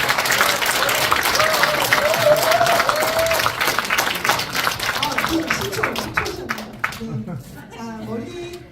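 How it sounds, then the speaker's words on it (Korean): A forum audience breaks into loud, sustained applause that fades over several seconds, with a crowd murmuring and a voice talking briefly at the end. "좀 박수 좀 부탁드립니다."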